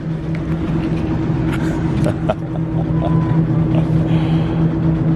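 A canoe support boat's engine idles steadily at a dock with a low droning hum, close and loud, joined by a few faint clicks and knocks.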